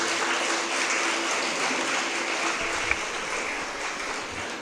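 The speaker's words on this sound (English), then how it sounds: "Let us give a big clap to all the Cluny sisters." Audience applause at a school auditorium and junior block grand opening ceremony, a steady wash of many people clapping in a large hall, sustained at even volume throughout.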